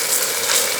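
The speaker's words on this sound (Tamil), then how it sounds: "இப்போ நாங்கள் ஒரு 3 கொச்சிக்காய் சேர்த்துருவோம்" Green chillies dropped into softened onion and tomato frying in a pan for a country chicken pepper gravy, giving a steady, even sizzle that hisses alone and close.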